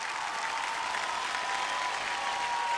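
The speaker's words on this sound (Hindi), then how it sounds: "जोरदार तालियां यार" A studio audience on a TV dance show gives loud applause for the dancers, a continuous wall of clapping that holds even and strong throughout, with a thin tone above it.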